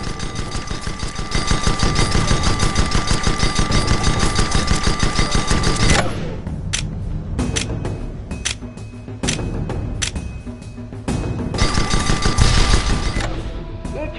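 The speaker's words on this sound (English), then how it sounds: "Shoot at that target dummy's hull till it breaks." A ship's gun firing in the airship combat game Guns of Icarus at a target dummy's hull: a rapid, loud, continuous stream of shots, then scattered single and short bursts of fire after a brief drop.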